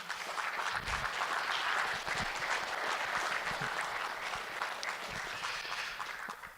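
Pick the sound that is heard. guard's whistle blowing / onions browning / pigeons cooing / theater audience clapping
theater audience clapping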